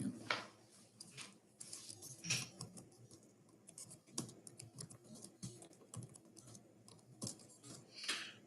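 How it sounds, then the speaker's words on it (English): Typing on a computer keyboard comes through as irregular bursts of quick, close key clicks and taps with short pauses in between, and no voices are heard. "we'll type something in"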